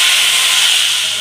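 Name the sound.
tomatoes sizzling as added to hot mustard oil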